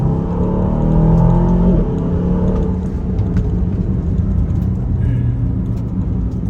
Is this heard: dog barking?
no